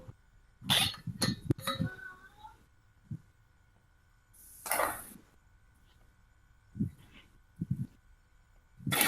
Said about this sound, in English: My dog just had a barking fit.